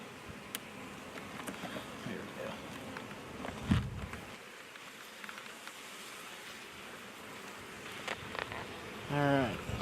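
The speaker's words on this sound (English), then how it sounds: "We're going to let that swarm in behind us kind of settle down a little bit first." A honey bee swarm hums in a continuous outdoor drone, with individual bees buzzing close past at moments and a brief thud partway through; no voices.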